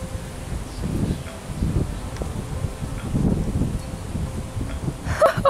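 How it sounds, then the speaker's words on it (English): Strong outdoor wind buffets the microphone in low rumbling gusts, rising and falling steadily, with a brief rustle near the end. "it is very windy out"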